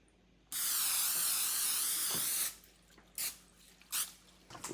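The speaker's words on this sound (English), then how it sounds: "we're gonna spray our racks with the PAM so our fish does not stick" PAM cooking spray is sprayed onto smoker racks before lake trout is laid on them: one loud, steady close-up hiss lasting about two seconds, then a few short, fainter spritzes.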